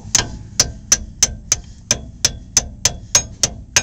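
A hammer strikes a shim pin, roughly a dozen sharp metallic taps at an even rhythm of about three per second, close and crisp, with no talk over them.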